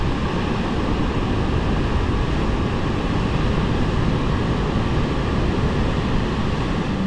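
Ocean surf breaks against the shore below the cliffs at Uluwatu, Bali, heard as a steady, loud roar of waves with wind and no voices.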